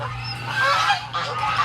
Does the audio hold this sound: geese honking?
yes